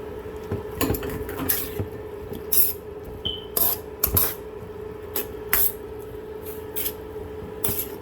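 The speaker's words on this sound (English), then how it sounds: "I'm going to toss in some mushrooms, and that's 1 cup of mushrooms." A cup of mushrooms drops into a hot pan, giving scattered sharp clatters and short sizzling bursts over a steady low hum.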